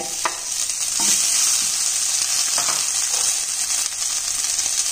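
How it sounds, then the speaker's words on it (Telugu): Tender drumstick leaves fry in oil in a pan, a loud, continuous close sizzle with hissing crackle throughout and faint stirring knocks underneath. "పాన్లో ఇప్పుడు మునగాకు ఫ్రై అండి"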